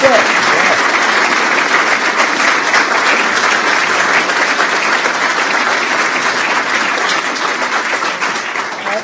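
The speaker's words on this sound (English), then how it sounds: "Can we have a round of applause for both candidates, please?" Applause from the audience for both candidates at the close of the 2016 Milwaukee mayoral debate: loud, dense clapping that holds steady for the full nine seconds.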